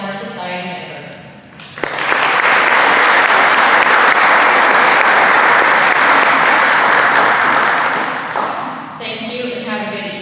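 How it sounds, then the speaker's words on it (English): An audience at a Brashear High School National Honor Society induction ceremony breaks into loud, sustained applause for a new member, lasting about seven seconds, with a speaking voice just before and after. "Please join me once again in applauding our new Honor Society member."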